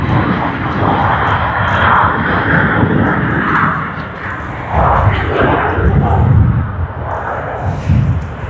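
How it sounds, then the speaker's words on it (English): An airliner on the Brisbane to Sydney service arrives at Sydney Airport with a loud, close, surging jet roar that rises and falls in rough swells, a faint voice occasionally underneath. "Brisbane to Sydney service, as you can see, arriving."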